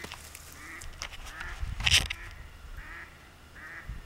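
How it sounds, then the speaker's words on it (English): A duck calls once out near a tower where sandhill cranes gather, a short quack rising briefly above steady outdoor ambience with no talking. "And there's a duck over here."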